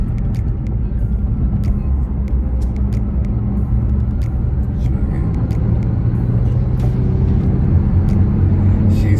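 A 2014 Porsche Panamera 4 pulls away hard with a loud, steady low engine and road rumble from inside the cabin, rising slightly over several seconds, with faint talk in the background.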